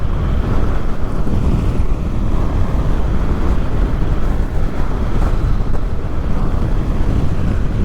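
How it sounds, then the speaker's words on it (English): Steady, loud wind buffeting the microphone while riding a Honda NC750XA motorcycle, a continuous low roar with no talk, constant throughout. "it's quite windy at the moment"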